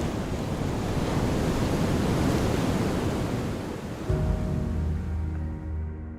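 Ocean surf washes onto an empty Pacific beach as a loud, continuous roar of breaking waves mixed with wind buffeting the microphone, with a low tonal drone entering near the end.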